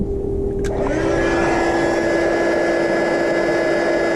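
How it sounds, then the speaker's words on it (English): A heat embossing gun blows steadily and close, a continuous loud whirring hum with a faint tone, running without pause throughout. "I'm going to bring in my tool, my heat tool, and I'm going to emboss just that tiny little piece"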